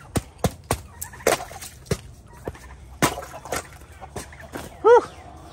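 A chicken around two and a half years old clucks in short bursts close by, with sharp knocks and scuffs scattered through and a louder squawk near the end.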